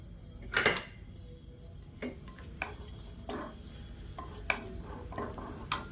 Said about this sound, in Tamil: எண்ணெய் சூடானதும் 3 துண்டு பெருங்காயம் சேர்த்துக்கலாம்.